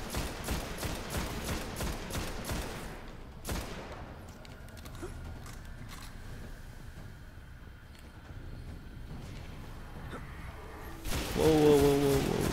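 Void gunfire from acolytes in the Destiny video game, rapid volleys of energy-weapon shots crackling early on, then a steadier rumble of combat and a louder burst near the end.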